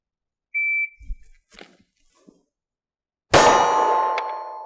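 A shot timer's short electronic beep sounds, followed by a loud burst of sharp clattering noise that rings on and slowly fades.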